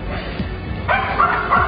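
A dog with heavily matted fur barks and whimpers in short yips and whines, close and loud over a noisy background.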